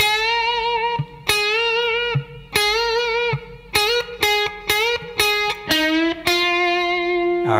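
A distorted electric guitar runs through two phrases of an intro, a string of punchy, wavering bent notes with brief gaps, speeding into quicker repeated hits near the end, loud and up close with no talking.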